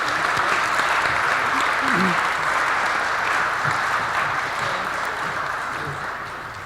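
Audience applause at a celebration of Arthur Curry's life with two guests, a steady wash of clapping that fades slightly toward the end, with faint voices mixed in underneath.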